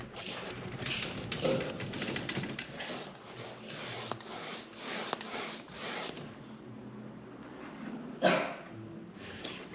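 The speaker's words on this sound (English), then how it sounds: "I don't know if you can hear my dog in the background." A pet dog barks and whimpers in another room while someone paints a lake scene, the sounds faint and repeated in short bursts over a quiet indoor background.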